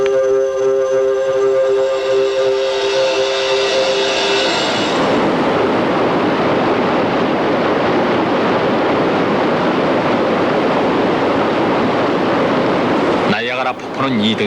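Iguazu Falls in South America roars as a dense, unbroken wash of falling water, loud and enveloping. A faint tonal sound fades out early, and a brief disturbance comes near the end.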